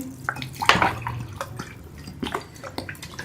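Two glasses of water are poured into a pot holding desi ghee for plum (aloo bukhara) sharbat, giving close splashing bursts followed by lighter drips and trickles.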